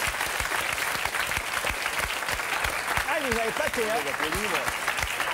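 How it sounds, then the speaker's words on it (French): Studio audience of a French television talk show applauding, a continuous crackle of many hands throughout, with someone speaking briefly over it midway. "Allez, on applaudit, on remercie le père Lucchesi."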